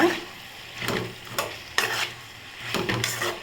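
Bitter gourd sizzles in a hot pan while a spatula scrapes and stirs in repeated bursts, close and fairly loud, with no talking.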